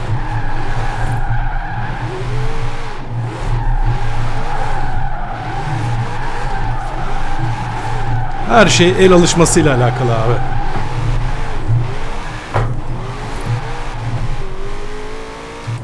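A modified 2020 Shelby GT500 drifting in the racing game Forza Horizon 4, with loud, sustained tire squeal over a revving engine and a sharp burst of skidding midway, while someone talks throughout.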